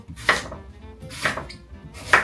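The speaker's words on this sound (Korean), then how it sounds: "뭐 재료야 뭐 그냥 적당히 자르면 되고요. 이렇게 얇게 자르셔도 되고" Knife chopping apple pieces on a cutting board, three sharp, separate chops about a second apart, close and clear, with no talking.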